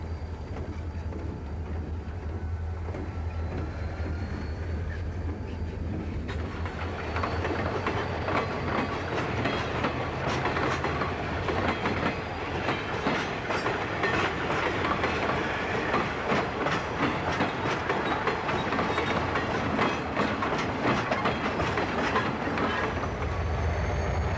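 Idaho Northern and Pacific freight train switching cars at a siding, with a steady rumble and rattle of rolling railcars that grows louder after a few seconds, joined by a low locomotive drone at the end.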